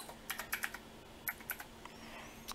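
Quick bursts of typing on a computer keyboard, light, close keystrokes in short clusters as a drive label is entered on a quiet desk.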